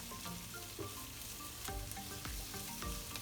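Whole spices sautéing in hot oil in a pan for Kerala-style vegetable kurma, a faint, even sizzle with occasional stirring scrapes and clicks.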